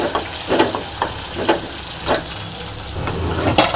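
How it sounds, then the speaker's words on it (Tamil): Crushed garlic and shallots frying in a pan with a loud continuous sizzle, broken by regular stirring strokes that scrape and tap at an even pace. "சின்ன வெங்காயம் இதையும் போட்டு நல்லா ஃப்ரை பண்ணிடலாம் நல்லா ஃப்ரை ஆகுது"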